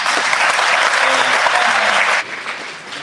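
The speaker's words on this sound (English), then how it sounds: "Please give her a round of applause." An audience at a community college event with the First Lady gives a loud, dense round of applause that carries steadily, then drops off sharply and fades to scattered clapping near the end.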